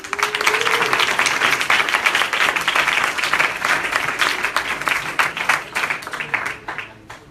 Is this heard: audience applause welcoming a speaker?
yes